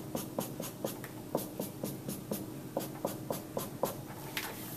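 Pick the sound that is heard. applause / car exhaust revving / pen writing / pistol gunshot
pen writing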